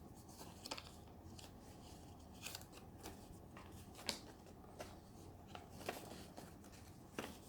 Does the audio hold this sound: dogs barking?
no